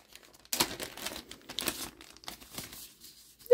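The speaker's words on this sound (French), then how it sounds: "Ça, des enveloppes, mais des enveloppes vides." Empty paper envelopes being handled and crumpled up close, bursts of crinkling and rustling paper in several separate bouts with short quiet gaps between them.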